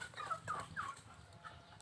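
White hen and other backyard chickens making a few short clucking calls over quiet outdoor background noise, faint and fairly close.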